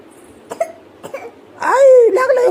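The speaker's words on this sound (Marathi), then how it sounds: "हो बया, लगेच खोकला लागला" A child coughs a few short times, then a voice follows, loud and close, with the cough bursts breaking up the vocal sound.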